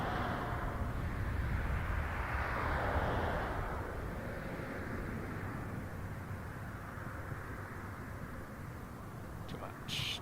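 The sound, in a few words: King Air aircraft coming in to land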